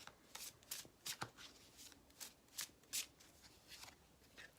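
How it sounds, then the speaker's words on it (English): Tarot cards from an Essential Tarot deck being handled and laid down on a surface, a series of soft crisp flicks and slaps spaced irregularly, close and fairly quiet with no talking. "I'm just gonna throw down one more Essential Tarot card"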